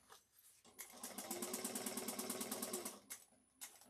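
A sewing machine stitches a shoulder bag: a short burst, then a steady fast rattling run of needle strokes for about two seconds, stopping and restarting briefly as it back stitches, close and clear with no talk.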